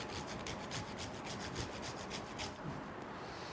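Nutmeg grated over sweet puran filling, a steady close rasping scrape in quick repeated strokes that fades near the end, no speech.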